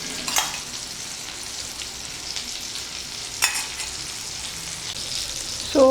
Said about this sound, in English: you need to fry this with good amount of oil